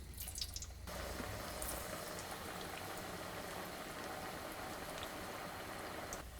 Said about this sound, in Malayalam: എണ്ണ നന്നായിട്ട് ചൂടായി കഴിയുമ്പോൾ ഇതിലോട്ട് നമ്മൾ പരത്തി വെച്ചിരിക്കുന്ന ചക്കക്കുരു വടയിട്ട് ഫ്രൈ ചെയ്തെടുക്കാം